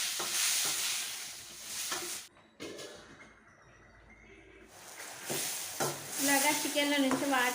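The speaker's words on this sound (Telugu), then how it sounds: "పసుపు ఉప్పు కలిపి పెట్టుకున్న చికెన్ అయితే ఇందులో వేసుకోవాలి" Chicken pieces coated with turmeric and salt hit hot oil and sizzle loudly and steadily, dip to a quieter crackle midway, then flare back up with stirring and a brief voice at the end.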